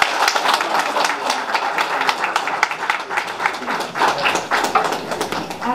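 Applause at an album launch event, a steady patter of many hands clapping together, dense and moderately loud throughout, with some murmured voices mixed in.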